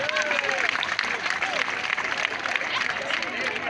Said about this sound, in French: Encore une fois, chers élèves, applaudissez vos maîtres